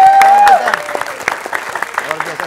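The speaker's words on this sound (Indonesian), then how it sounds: "Tepuk tangan dulu buat ketiga." Crowd applause for three celebrity legislative candidates at an Indonesian political rally, dense brisk clapping from a nearby audience with a brief tone at the start.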